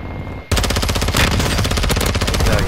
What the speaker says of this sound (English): I'm getting shot at, Chase.